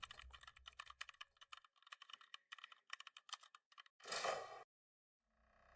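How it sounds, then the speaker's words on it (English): Quick, crisp clicking of keys on a computer keyboard in an office, a fast irregular run of close taps, then a short swell of louder noise and a near-silent pause. "the rhythmic clicking of your keyboard"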